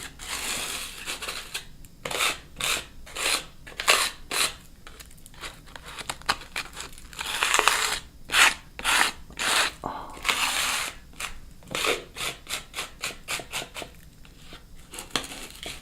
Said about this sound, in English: Better than this scraping sound. ASMR. Scraping your rolling tray.